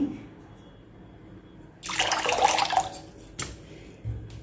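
Water is poured into a bowl while papdi sev dough is prepared in a kitchen, arriving in one loud splashing burst that runs about a second after a quiet start, followed by a short second splash.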